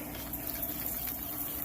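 A spray bottle mists apple cider vinegar cut with water onto a pork shoulder being smoked for pulled pork, a steady close hiss of fine spray.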